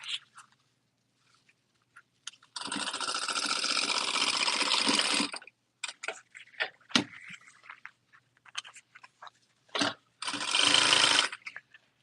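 Sewing machine stitching fabric for a beauty bag, in two loud sustained runs of about three seconds and one second, with clicks and handling noises between them.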